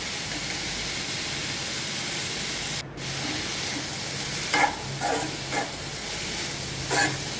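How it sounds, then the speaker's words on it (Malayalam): Chopped onion stalks sautéing over a low flame in a pan for a Kerala thoran give off a steady, close sizzle, with a few brief louder scraping stirs near the end and no talking. "ചെറുതീയിൽ നല്ലവണ്ണം വഴറ്റിയെടുക്കണം."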